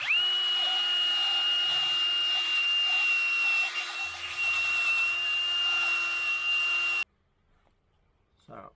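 A power tool fitted with a rubber-toothed disc cleans an engine cylinder head, a loud steady high whine that runs for about seven seconds and then cuts off abruptly, leaving near silence and a faint voice.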